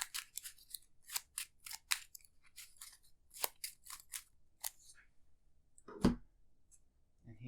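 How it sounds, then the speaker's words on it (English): A deck of cards is riffled and bridged during an Arkham Horror card game session, crisp rapid bursts of flicking cards in quick clusters followed by a sharper snap, close and alone with no talk. "I'll shuffle this up."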